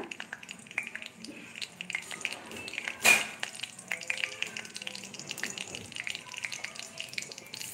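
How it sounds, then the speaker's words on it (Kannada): Mustard seeds fry in hot oil for raw mango chitranna, giving a steady close crackle of small pops and spits with one sharper burst partway through, and no voices. "ಎಣ್ಣೆ ಕಾದಿದ್ದೆ ಹಾಕೊಂಡಿದ್ದೀವಿ ಕಡಕ ಬೀಜ"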